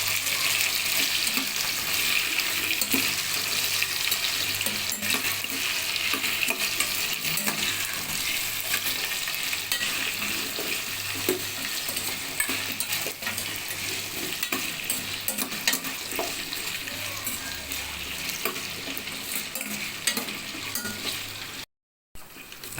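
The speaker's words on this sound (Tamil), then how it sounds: "நல்லா வதக்கிக்குங்க எண்ணெயில்." Drumstick and other vegetables for sambar sauté in hot oil, a loud, continuous sizzle up close with steady stirring scrapes running through it and a brief dropout near the end.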